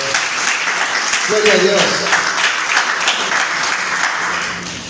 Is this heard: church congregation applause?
yes